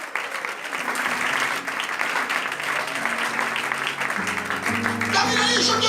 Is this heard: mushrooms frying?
no